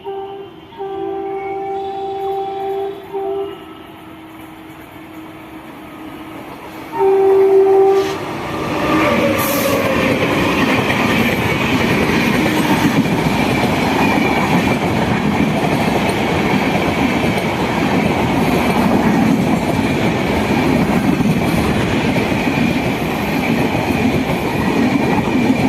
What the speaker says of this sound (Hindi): WAP5 लोकोमोटिव लगा है।